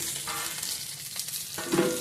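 Dal frying crisp in a pan, a dense, even sizzle that runs throughout, close and moderately loud with a slight stirring swell near the end.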